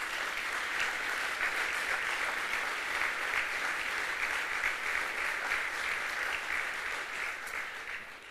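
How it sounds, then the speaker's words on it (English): Steady, dense applause from an audience at an awards gala fills the room for several seconds, loud and even before tapering slightly at the end, with no talking over it. "Give them a round of applause."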